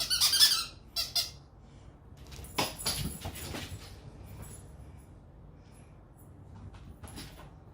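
A dog plays with a squeaky toy at home. Several sharp, bright squeaks come in short bursts, then scuffling and rustling follow, fairly close and quiet, with no talk.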